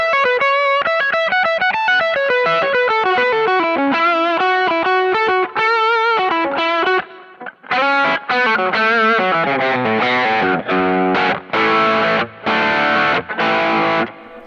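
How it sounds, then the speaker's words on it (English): An electric guitar played through a small amp with a Tube Screamer overdrive rings out in a gritty, driven tone, first with sustained ringing chords, then with choppy stabs separated by short pauses. "maybe throw on a tube screamer and you get this thing"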